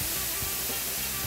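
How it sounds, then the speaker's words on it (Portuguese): Chopped tomatoes frying in a pan alongside cassava and small potatoes, a steady, even sizzle and hiss that continues without a break. "vou fritar o nosso tomate já cortado"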